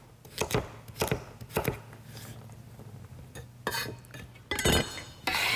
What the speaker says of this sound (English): And then just cut them into pieces about the same size as your celery.